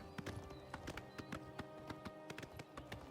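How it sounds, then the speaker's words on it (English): Horse hooves clip-clopping at a walking pace in the Oblivion Remastered video game, a faint and fairly regular series of hoof taps heard over steady game ambience, with no talk. "I will leave my horse in front of the stable"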